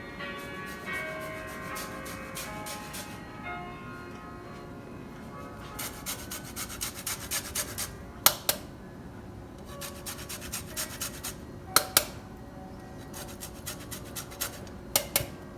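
A lime rasps against a grater in repeated short scraping strokes, quiet and close, coming in bursts with brief pauses and a few sharper clinks.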